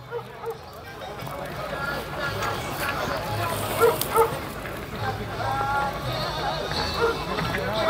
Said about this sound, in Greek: Εδώ βλέπουμε τα σκυλάκια.